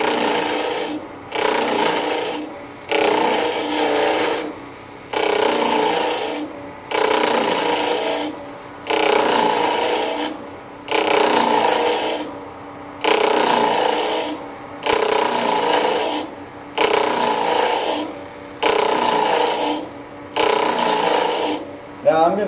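A woodturning tool cuts the corners off a wooden blank spinning on a lathe, making a loud rasping scrape in about eleven regular bursts with short pauses between them.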